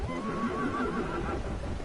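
A horse enemy in a fantasy video game lets out a wavering neigh, moderately quiet and drawn out over a low wash of game ambience, with no voices.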